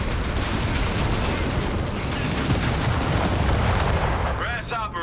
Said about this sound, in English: Got a bit of AT rifle action coming through there